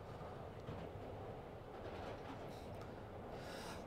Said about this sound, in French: Spider-Man qui prend le métro, c'est quelque chose.